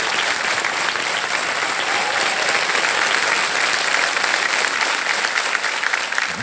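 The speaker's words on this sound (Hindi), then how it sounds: "एक बार तालियां बज जाए उनके लिए।" Sustained applause from a TV quiz show studio audience, Kaun Banega Crorepati, steady and dense throughout with no voices over it.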